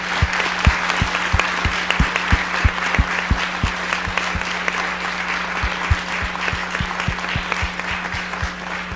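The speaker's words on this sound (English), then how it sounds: "can we have a proper round of applause for these 4 fantastic guests?" A hall audience applauding four guests at a music business event: dense, sustained clapping that stays loud and even from start to finish.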